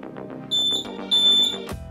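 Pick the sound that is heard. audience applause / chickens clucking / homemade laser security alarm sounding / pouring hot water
homemade laser security alarm sounding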